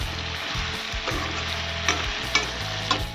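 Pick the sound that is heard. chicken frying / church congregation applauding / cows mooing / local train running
chicken frying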